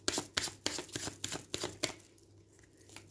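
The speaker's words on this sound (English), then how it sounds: "they're a bit too thick for me to be able to shuffle, so I think first I'm going to go this way." Thick tarot cards are shuffled by hand, giving about seven crisp, rhythmic slapping riffles close by before tapering into a quiet rustle.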